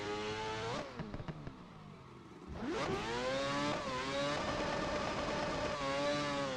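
A Mazda RX7 with a four-rotor engine in the Assetto Corsa racing game screams at high revs, dips briefly, then climbs again and holds a loud, buzzing tone while bouncing off the rev limiter.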